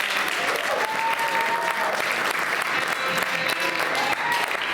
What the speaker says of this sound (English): Give a round of applause to Usyk, Fighter of the Year.